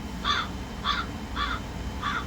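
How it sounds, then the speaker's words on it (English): Four evenly spaced crow caws ring out as a sound effect, each short and clear over a quiet, faintly hissing background. "Shouldn't it be crickets? Why is it a crow?"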